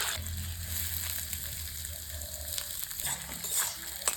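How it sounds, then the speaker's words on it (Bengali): Eggs rubbed with salt and turmeric fry in hot oil in a pan, giving a continuous close crackling sizzle with a low bubbling undertone and small pops near the end. "ডিমগুলো এখন গরম তেলে লাল লাল করে ভেজে নেব।"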